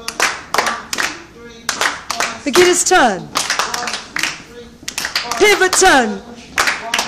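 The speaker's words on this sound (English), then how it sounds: "Everybody clap." A salsa class claps together to the beat in quick, sharp bursts while an instructor calls out dance moves over the clapping.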